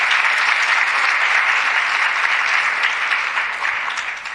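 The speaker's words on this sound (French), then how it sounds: "On peut l'applaudir aussi." An audience at a university talk on anti-violence research claps steadily, a dense and fairly loud wash of applause that holds and then begins to fade toward the end.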